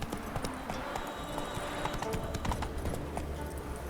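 Roach, a horse in The Witcher 3, galloping with a steady, rapid clatter of hooves, close and continuous over a low ambient game background.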